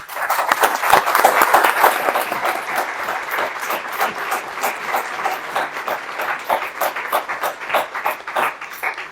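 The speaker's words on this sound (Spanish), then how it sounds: "Les pido por favor recibirla con un aplauso" A conference audience applauds steadily for several seconds, a dense patter of many hands clapping that gradually thins out toward the end.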